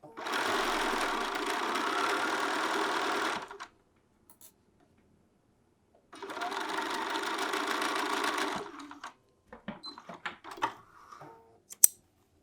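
A home sewing machine runs two steady bursts while stitching a quarter-inch seam through two fabric layers of a petal sleeve, each lasting a few seconds with a pause between, then light handling clicks and thread snips follow.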